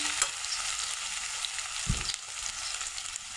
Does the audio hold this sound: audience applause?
no